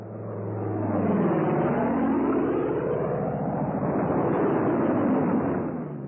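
World War II fighter planes come in low over an airfield to land, a loud, steady roar of piston engines that swells and drifts in pitch as they pass, with no voices.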